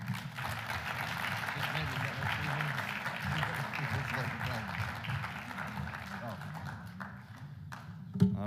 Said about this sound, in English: Another round of applause for Wolfgang Müller.